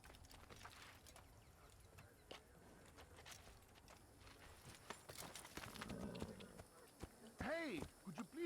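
Horse hooves in the video game Assassin's Creed clip-clop unevenly on a hard surface, first at a walk then quickening, with a horse's whinny near the end and a voice speaking briefly.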